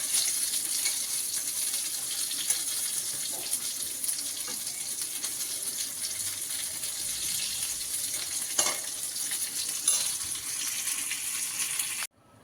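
Fish and chillies fry together in a pan, a steady bright hiss of hot oil running throughout with a few small clinks and pops, then cutting off abruptly near the end.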